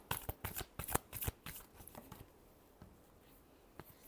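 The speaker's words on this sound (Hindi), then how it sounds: "Last shuffle." Tarot cards are shuffled by hand in quick riffling bursts, a dense run of crisp papery flutters up close that thins out into a few soft, scattered taps before ending.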